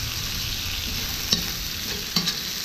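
Meat frying in a pan with onion and carrot at a dacha, a steady close sizzle broken by a couple of sharp scraping stirs.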